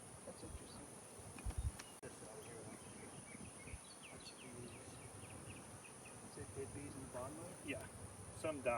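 Southern Italian honey bees from a freshly installed package drone faintly on the hive frames, a soft continuous buzz with occasional louder passes as single bees fly close, and a person talks quietly under it.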